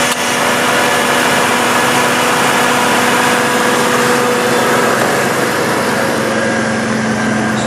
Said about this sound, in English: So that's AC compressor kicking on.